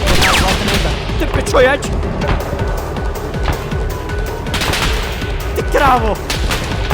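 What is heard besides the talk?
gunfire in the video game Arma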